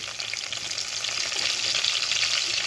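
Green chillies fry in hot oil for a spicy chilli mealmaker dish, giving a steady, dense sizzle that holds at an even level without a break and with no voices.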